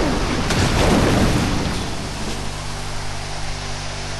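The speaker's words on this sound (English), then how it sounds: "And Mudkip uses Surf, which has both of our Pokemon" Pokemon Colosseum battle with Mudkip's Surf attack striking two Pokemon at once: a loud rushing wash of water noise that swells early, then settles into a steady roar over low hum.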